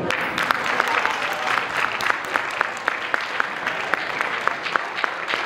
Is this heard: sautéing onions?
no